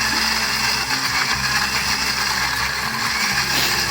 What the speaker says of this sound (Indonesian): Blender kasar aja biar masih ada tekstur cabai-cabainya gitu.